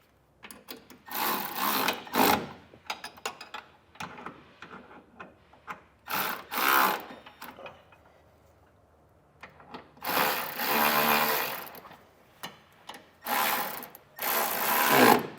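Ratchet clicking in repeated bursts as bolts on an air helper spring bracket are snugged up on a 2022 Chevrolet, close and clear, with pauses between runs of rapid clicks.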